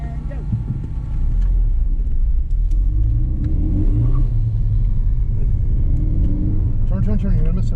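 An autocross race car pulls away from the start, its engine revving up loudly and steadily after a quieter first second, while an instructor's voice talks over it.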